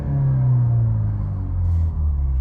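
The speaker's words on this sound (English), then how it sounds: "Rev it a little bit." A 2024 BMW 330i engine with piped-in exhaust sound gives a low, steady rumble that swells slightly and then eases back, heard up close with no talk.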